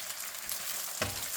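Beaten eggs sizzle on a hot griddle as they scramble into chopped kottu roti with green chilies, Sri Lankan street-food style: a steady close frying hiss with a sharper spit and scrape of stirring near the end.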